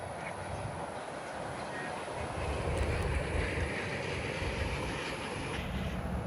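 A Magic Kingdom monorail train runs steadily nearby with a continuous broad rumble and hiss that swells slightly midway, with no talking over it.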